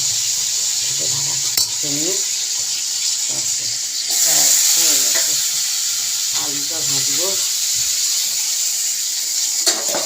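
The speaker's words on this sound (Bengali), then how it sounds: "এই আলু ছোট ছোট করে কেটে সেই আলুটা ভেজে" Small-cut potato pieces fry in hot oil with a loud, continuous, close sizzle that swells in the middle. A muffled voice murmurs faintly beneath it.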